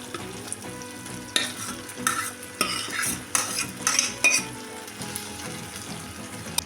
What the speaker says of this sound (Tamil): இதையும் நல்லா வதக்கிக்கலாம். தக்காளி வதங்கிடுச்சு.